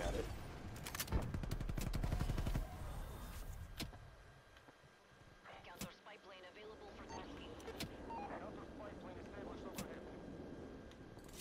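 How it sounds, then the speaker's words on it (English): A hostile sentry turret firing in a hardcore deathmatch video game: bursts of rapid shots and sharp bangs, strongest early and then scattered, mixed with engine-like rumble and people talking over it. "Oh, that's the sentry's turret, okay."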